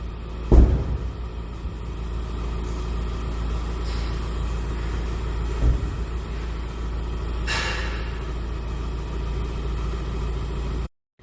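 The tipper body of a Ford Transit L2 Leader DRW RWD 2.0 EcoBlue 130ps lowers with a close, steady motor drone and a few sharp clunks, then stops abruptly at the end.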